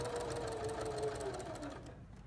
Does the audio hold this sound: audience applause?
no